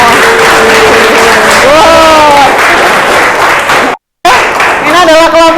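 A classroom of students claps together in a loud, steady burst, with children's voices calling out over the applause and a brief dropout partway through.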